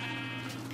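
A single Minecraft sheep bleat in the video game, a short, faint, wavering baa heard alone.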